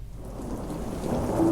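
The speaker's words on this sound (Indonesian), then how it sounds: "turunlah hujan yang sangat deras. Petir menyambar-nyambar." Heavy rain pours steadily as a thunderstorm rumbles, the low thunder swelling louder toward the end; no voices.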